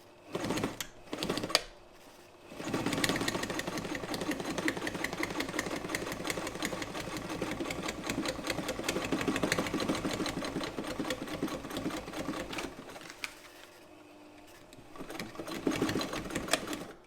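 A Frister & Rossmann 35 sewing machine modified for heavy duty work stitches through leather in a steady, close mechanical whir that runs almost continuously, pausing briefly near the start and again near the end before resuming.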